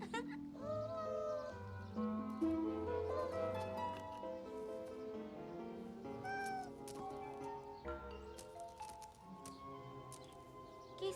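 A kitten meows in an animated cartoon: several high, wavering meows over music, with some voices in the background.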